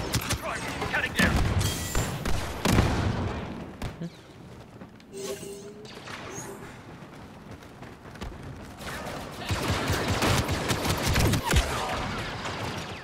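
Blaster and pump-action shotgun fire in the Star Wars Battlefront 2 multiplayer game, a busy mix of repeated shots and thuds in bursts across the whole stretch, with a voice talking over parts of it.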